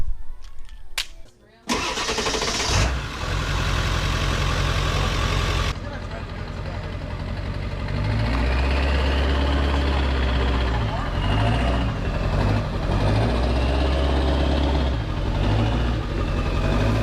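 A truck's engine is started after rotor and brake work, giving a brief cranking burst before catching, then settling into a steady, rumbling idle that rises slightly as it runs.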